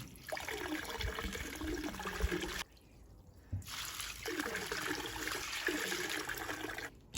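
Water pours steadily over LECA clay pebbles around a peace lily, a broad splashing wash that pauses briefly partway through and then resumes, close and fairly loud.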